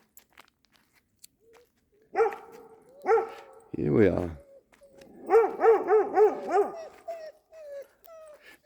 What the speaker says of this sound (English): hear Toby whining and Macaulay barking